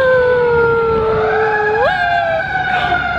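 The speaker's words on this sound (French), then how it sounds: "Ah, le bruit de l'ambulance il est destructeur hein." An ambulance siren wails loud and close on a Montreal street, its steady tones sliding upward in pitch partway through as the vehicle passes, with traffic rumble underneath.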